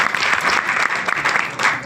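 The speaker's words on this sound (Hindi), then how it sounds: "तो इस तरह से एक बार जोरदार तालियां इस आपके लिए।" Loud applause from an audience at a company business plan presentation, a thick continuous clapping held steady throughout with no voices on top.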